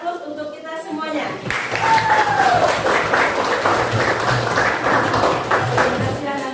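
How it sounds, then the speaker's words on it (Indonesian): A crowd claps in applause at the close of a classroom or teaching session, a steady dense patter from many hands lasting several seconds, with a voice talking at the start. "aplaus untuk kita semuanya"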